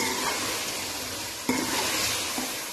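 Potatoes and peas fry in a pan with salt, chili, ground coriander and turmeric, a steady close sizzle running throughout while a spoon stirs and scrapes, with one clear knock against the pan midway.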